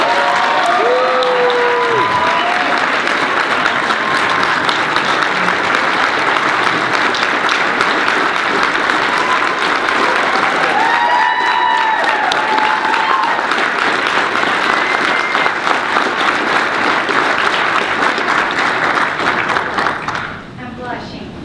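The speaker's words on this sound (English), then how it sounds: "Please give a loud Cav welcome to one of our own 6'6" Cav family members, Karin Windorski-Cruz." Audience at a cavalry unit event gives a loud, sustained round of applause to welcome a speaker, dense clapping for about twenty seconds before tapering off, with a few voices and cheers mixed in.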